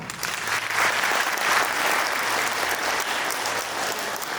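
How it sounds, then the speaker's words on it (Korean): Wedding guests in a Gwangju wedding hall break into sustained, dense applause after the marriage declaration, a steady wash of many hands clapping together for several seconds. "박수 부탁드리겠습니다"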